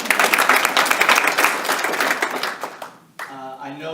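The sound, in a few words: audience applause in a courtroom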